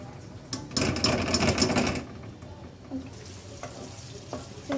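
Food sizzling in hot oil in a pan, a loud crackling burst for about a second and a half that then drops to a quieter steady fry with a few small clinks.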